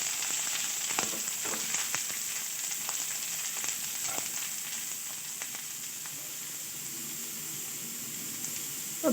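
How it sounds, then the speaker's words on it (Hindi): Cauliflower and carrots fry in light oil in a pan, giving a steady close sizzle with scattered pops and crackles throughout and no talking. "अब उसमें मज़ीद हम गाजरें डाल के इसको भी फ्राई करेंगे।"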